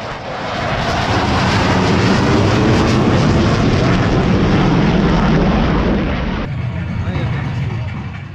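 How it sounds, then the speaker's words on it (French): Two French Navy Rafale fighter jets pass over the Paul Ricard circuit at the Bol d'Or motorcycle endurance race, a loud, broad jet roar that swells quickly, holds for several seconds, then eases slightly near the end. "Deux rafales marines vont survoler le circuit. Il s'agit de deux avions de chasse de la Marine nationale."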